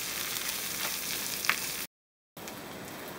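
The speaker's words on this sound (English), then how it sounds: "mix it in until the rice become a bit translucent. It will happen pretty fast in the oil." Rice stirred and frying in hot oil in a pan, a close steady sizzle with a few scraping stirs, broken by a brief cut to silence before the sizzling resumes.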